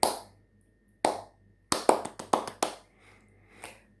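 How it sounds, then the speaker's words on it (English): Hands clapping along to the children's song "If You're Happy and You Know It": two single sharp claps, then a quick burst of about five, then one softer clap, all close and with no voices. "clap your hands."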